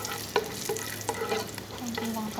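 Raisins fry briefly in a pan for Kabuli pulao, a low, even sizzle punctuated by several light clinks and scrapes of stirring.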